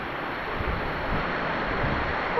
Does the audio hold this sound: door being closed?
no